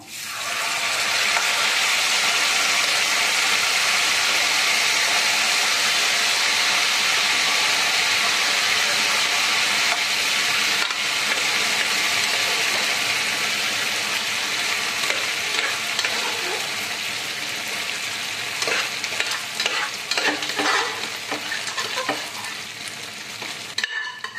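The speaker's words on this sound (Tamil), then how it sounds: "நெய் சூடானதோட நம்ம வேக வச்சிருக்கிற ரைஸை இதில் போடுவோம்" Cooked rice frying in hot ghee in a Tamil home kitchen for Pongal, a steady loud sizzle with rhythmic scraping and clicking of a spoon stirring, continuous throughout with more pronounced stirring strokes toward the end.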